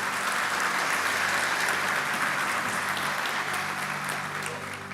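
A church congregation breaks into full, sustained applause, dense crowd clapping that holds steady for several seconds before easing slightly at the end.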